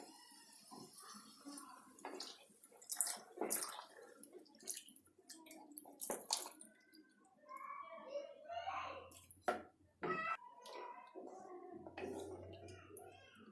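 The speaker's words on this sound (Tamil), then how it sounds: "நம்ம வச்சிருக்க பாலை ஆட் பண்ணிக்கோங்க." Milk poured into a pan of fried chana dal while making chana dal halwa, with wet splashing, dripping and bubbling sounds mixed with scattered kitchen clatter and some faint background voices.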